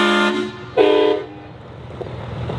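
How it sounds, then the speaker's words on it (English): Train horns fitted to a stretched Ram pickup truck blast two loud, sustained multi-tone honks in quick succession, followed by quieter ambient noise, with no talking. "fixed the train horns"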